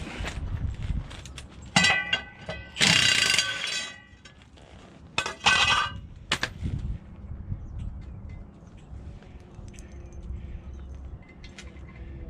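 A bolt is fitted back into a 6180 machine with coulters, giving several sharp metallic clinks and rattles close by in bursts over the first six seconds, then only a faint low background hum.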